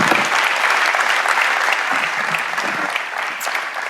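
An audience claps steadily in a hall at an entrepreneurship event, the dense applause loud and continuous before gently tapering.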